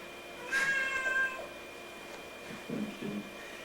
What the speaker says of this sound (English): We have a cat in the meditation room.